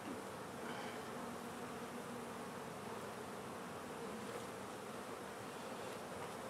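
Honeybees swarm around an open hive frame, making a dense, steady buzz up close that carries on evenly throughout with no talking.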